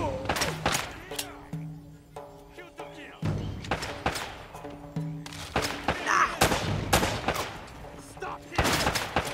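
Enemy gunfire in Uncharted: Drake's Fortune, loud repeated shots and bursts cracking in irregular volleys over tonal game music, with a voice talking between the shots.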